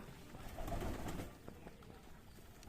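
Soft, low cooing of racing pigeons repeats close by in a quiet morning setting, gentle and rounded.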